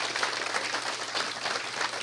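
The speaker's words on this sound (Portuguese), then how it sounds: "Um aplauso para vocês são incríveis" Book launch audience applauding together, a dense continuous wash of clapping from a full room, steady in level and fairly close, with no talking on top.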